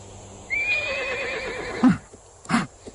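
A horse on a farm gives a clear, drawn-out whinny, followed by two sharp snorts or blows, close and alone in a quiet setting.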